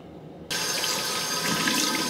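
A tap suddenly turns on and water runs in a steady, close rush into a sink while a face is rinsed of foam cleanser, following a brief quiet moment.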